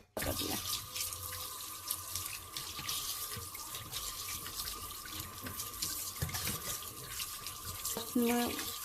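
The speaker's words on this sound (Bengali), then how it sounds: "চলুন আগে ধুয়ে নিই এটাকে ভালো করে।" Tap water runs steadily into a kitchen sink while something is washed under it, a constant close splashing stream with faint clatter and a brief voice near the end.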